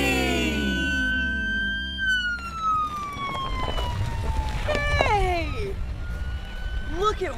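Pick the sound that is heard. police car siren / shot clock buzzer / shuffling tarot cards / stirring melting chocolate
police car siren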